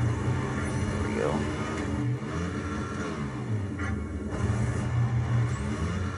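Motorbike engine in the Moto Racer 4 racing game, a continuous droning rumble with shifting pitch as the bike accelerates and slides, steady and fairly loud throughout.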